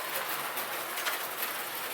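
Clockwork model train running along a home layout track, a steady broadband whirring and rattling rolling on evenly for the whole stretch, close and moderately loud with no talk.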